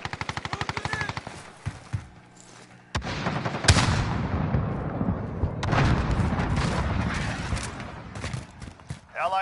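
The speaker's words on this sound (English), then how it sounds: "Enemy sentry gun active." An enemy sentry gun in a Call of Duty match fires a rapid rattling burst, then heavier bursts and booming gunfire crowd in. The shots are loud and close and keep going to the end.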